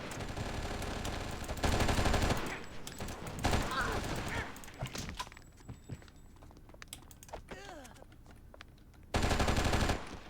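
Rapid automatic gunfire in the video game Oni comes as loud bursts at the start and end, separated by quieter game sounds and faint chirping effects, with a voice heard now and then.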